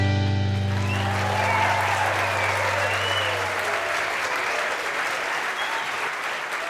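Radio show studio audience applauding to welcome the host, steady loud clapping from a sizable crowd that starts after a fading sustained tone and slowly tapers off.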